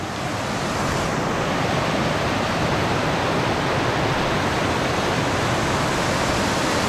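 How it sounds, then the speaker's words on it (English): A big waterfall on Mount Hood's Timberline Trail sends up a loud, constant broadband roar of rushing water that holds steady from start to finish, with no voices heard. "That's a big waterfall."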